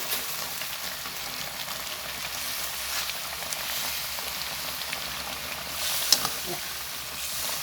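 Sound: chilies, green peppercorns, kaffir lime leaves added to frying tilapia

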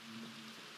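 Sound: rain in a video game (Minecraft)

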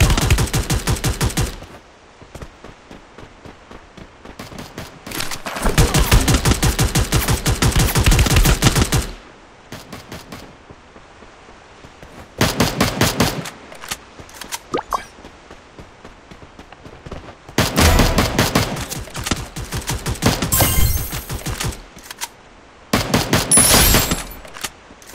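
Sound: gunfire in Free Fire video game

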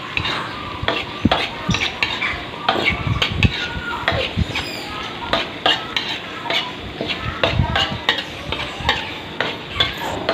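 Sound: stir-frying squid and shrimp with fresh chili

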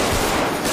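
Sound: gunshots in GTA video game

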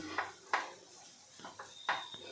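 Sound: potato and spice filling pressed and sautéed in pan

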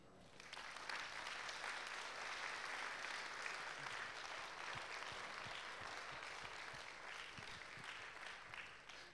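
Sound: applause

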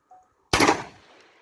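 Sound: Aksa Crossfire 36 cal shotgun firing

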